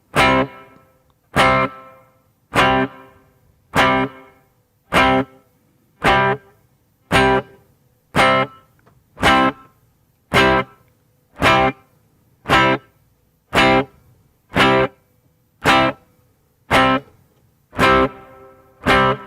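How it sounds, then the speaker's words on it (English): Evenly spaced electric guitar strums repeat about every second, each chord bright and sharp, followed by a brief pre-delayed wash of reverb. "This is the amount of delay before the reverb tail starts."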